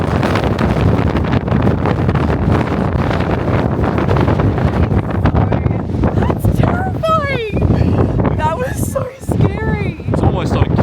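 Strong wind gusts roar across an Icelandic beach, a loud constant buffeting on the microphone that masks the surf, while people talk and exclaim over it.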